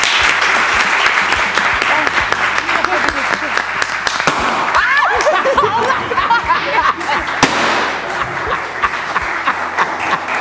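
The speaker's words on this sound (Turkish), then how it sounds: "Şampiyonlara büyük alkışlar." A studio audience bursts into loud, sustained applause for the champions, dense clapping with a few sharp claps and scattered laughter and chuckles running through it.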